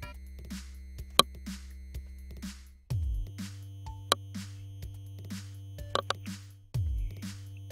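Electronic dance loop programmed in Sonic Pi and sped up to about 125 BPM: a steady pulsing beat with plucky synth blips and hi-hat ticks, a deep bass layer dropping in partway through, played alone with no talking.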